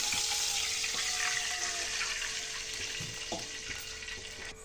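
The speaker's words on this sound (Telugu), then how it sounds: "ఇప్పుడు ఇదే ప్యాన్లో ఒక గ్లాస్ వాటర్ వేసుకుందామండి" A glass of water is poured into a hot pan used for rice-flour dumplings, making a soft, continuous splashing hiss that gradually eases off; quiet and close, with no talking.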